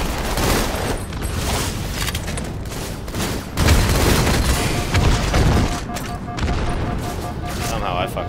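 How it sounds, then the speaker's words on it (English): Dense video-game gunfire and explosions from a multiplayer shooter battle, rapid overlapping shots and booms continuing throughout at high level, with a player talking over the action. "Hella shots over here."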